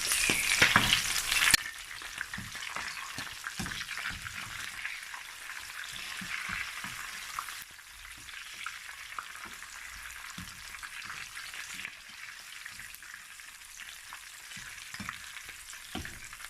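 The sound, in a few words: chicken frying in oil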